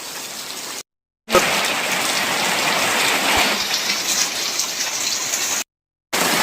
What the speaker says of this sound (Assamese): বৰষুণ আহিল বৰষুণ চাপচোন